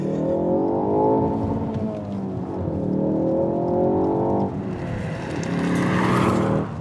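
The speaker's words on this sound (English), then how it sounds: "to set up launch control, you just pick it here in front of you, you get some race flags, you pop it into first" Ford Focus ST launching hard with launch control: a loud, close engine note climbs steadily in pitch, drops at a gear change and climbs again, with tire noise near the end and no talk over it.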